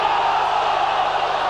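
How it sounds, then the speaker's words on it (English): A large Australian football crowd at Moorabbin during a 1991 Melbourne vs St Kilda match roars in a sustained, dense wash of yelling, loud and continuous throughout. "Crowd yelling, ball!"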